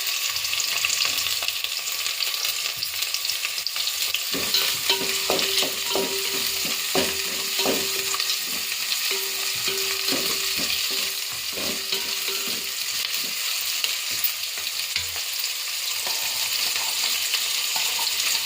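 Carrots frying and being stirred in a pan for Telangana bagara rice, with garlic already softened: a steady sizzle runs throughout, and from about the midpoint a spoon scrapes and knocks in repeated strokes.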